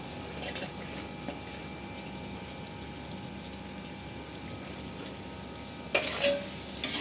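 Mixed vegetables with chopped green chilli and beans stir-fried in a pan, a soft continuous sizzle with light scraping of the spatula, and a couple of louder clatters near the end.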